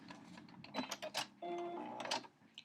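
A sewing machine stitches corner to corner across quilt star points. Short mechanical bursts give way to a steady, close whirring run lasting under a second, then stop.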